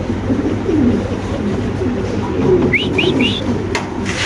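Lahori pigeons coo in low, repeated throaty rolls close by, with a few brief higher chirps mixed in over a soft background hum.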